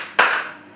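A single sharp, loud clap from a class of students clapping together in a counted pattern in a classroom group session, ringing briefly before fading.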